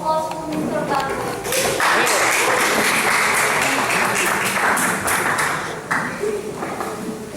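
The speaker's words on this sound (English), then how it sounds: "Now I call the first speaker of opposition team with applause to Mr. Bang." Loud audience applause fills a debate hall at an English debate final, dense clapping rising quickly and holding steady, with a few sharp taps and some voices mixed in.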